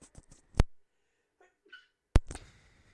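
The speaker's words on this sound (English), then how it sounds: "Sorry, I didn't want to sneeze in everybody's ear" A sharp, loud sneeze bursts out near a microphone during a wrestling talk show, preceded by quick breaths and followed by a second explosive burst and some rustling.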